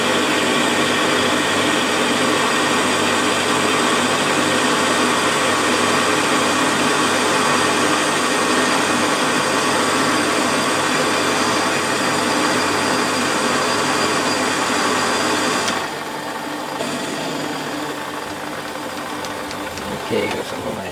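A metal bar of unknown alloy being turned on a lathe in a home shed, with cutting fluid on it, gives a steady loud whirring and grinding hum that runs throughout, then drops somewhat toward the end.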